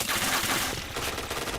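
Rapid, dense automatic gunfire from a video game fills the short stretch, a continuous loud rattling burst with no pauses.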